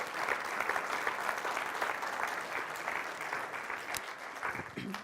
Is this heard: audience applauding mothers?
yes